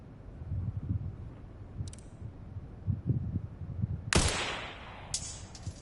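Two or three sharp gunshots from a scoped weapon in Resident Evil Requiem crack out in quick succession, set against quieter low rumbling and shuffling game ambience.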